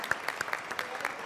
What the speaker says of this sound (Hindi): मरियम अंसारी के लिए तालियां बहुत सारी।